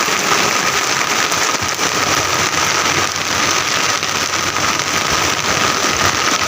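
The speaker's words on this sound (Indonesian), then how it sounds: "Suasana hujan gede." Heavy rain pours during a stormy night out fishing on the water in strong wind, a loud dense hiss of drops drumming on surfaces that stays constant and close.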